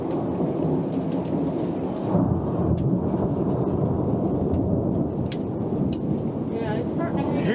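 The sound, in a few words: thunderstorm with hail and thunder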